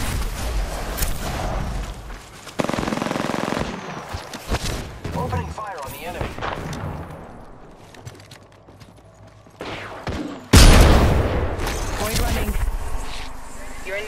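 Enemy gunfire in a battle royale video game, bursts of shots with thuds and impacts, loud sharp hits around 2.5 and 10.5 seconds, mixed with game noise and talking throughout.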